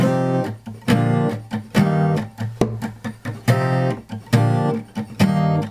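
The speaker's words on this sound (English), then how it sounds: "So I do a tap on the guitar." Acoustic guitar strummed in a steady rhythm, each strum paired with a sharp percussive tap on the guitar body, close and clear.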